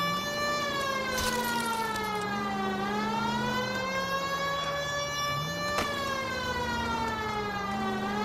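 Police car siren in the video game L.A. Noire, a steady wailing tone rising and falling in slow sweeps, loud and continuous throughout with no talk over it.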